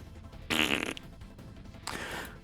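A voice imitates fart sounds in two short blasts: a loud, buzzy raspberry-like burst followed about a second later by a softer, longer sputter.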